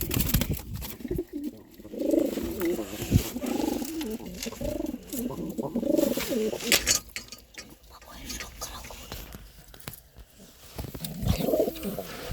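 A pet pigeon coos softly several times, close by and fairly quiet. Someone talks over and between the calls, and there is a faint rustle in the background.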